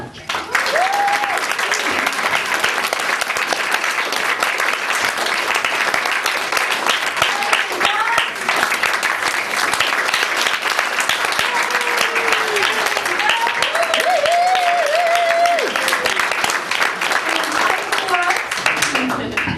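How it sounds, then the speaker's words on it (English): Wedding guests applauding at a reception, a dense, sustained round of clapping from a crowd that fills the room throughout, with voices and cheers rising above it. "if you can please show your appreciation by applauding"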